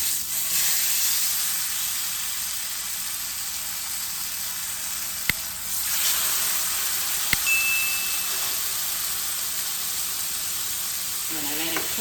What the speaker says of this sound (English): It has its own fat, so I'm gonna brown it and we'll be ready to eat.